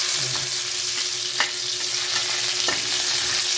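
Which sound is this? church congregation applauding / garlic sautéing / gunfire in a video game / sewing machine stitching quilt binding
garlic sautéing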